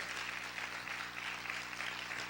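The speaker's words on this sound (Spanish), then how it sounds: "Aplaude fuerte al Señor." Congregational clapping fills a church after a preacher's call to praise, a continuous dense spread of applause from a crowd, fairly faint and even with a low hum underneath.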